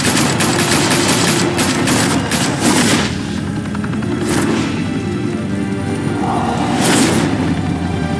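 Sustained machine-gun fire rattles loudly and close in Batman: The Telltale Series, with fast repeating shots, several sharp bursts and a whooshing, rotor-like roar underneath throughout.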